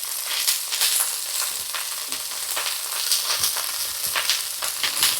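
Small puti fish, headed for a spicy bitter-gourd dish, frying in a pan with a steady, close hiss and crackle that swells in soft pulses throughout, no voices.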